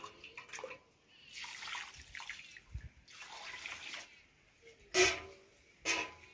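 Water left from washing rice for papad is poured out onto a neighbouring field outdoors, heard as several splashing gushes, a longer pour followed by two short, louder splashes.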